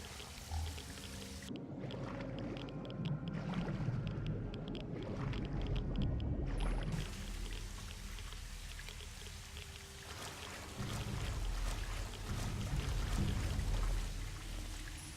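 Splashing and pouring water as a character swims into a lake in the Fallout 3 video game, a steady wash of watery noise with game music and ambience underneath throughout.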